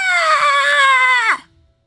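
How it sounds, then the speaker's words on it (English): A woman screams hysterically, one loud sustained shrill cry that holds steady and then drops in pitch before cutting off abruptly. "She screamed hysterically"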